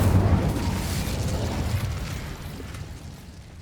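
A fiery burst from the Incendio spell in Hogwarts Legacy, a loud low whooshing roar at the start that slowly fades over a few seconds, with no speech.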